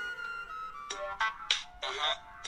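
An incoming-call ringtone from a mobile phone, repeating tonal bursts in an even on-off rhythm, close and clear, with little else around it.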